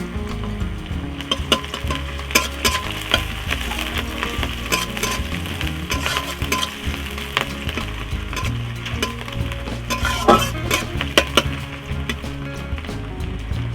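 Green chillies and chopped onion dropped into hot oil set off a loud, busy crackling sizzle, with rapid pops and stirring clatter running throughout.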